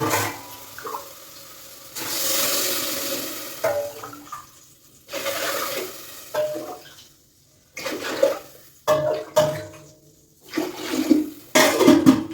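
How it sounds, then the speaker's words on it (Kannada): Water pours into a cooking pot for rice bath in several glassful bursts with pauses between, splashing and gurgling, fairly close. "ಮೂರು ಗ್ಲಾಸು ನೀರು ಹಾಕಿರ್ಬೇಕು ಇವಾಗ"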